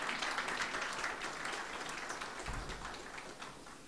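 An audience at a maritime legal conference and awards event claps for the panelists, giving a dense, continuous patter of applause that slowly fades over a few seconds.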